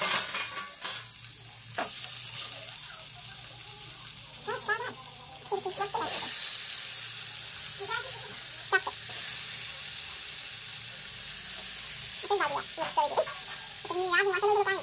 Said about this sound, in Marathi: तेल टाकतंय पॅन मध्ये झटकीपट फ्राय करूया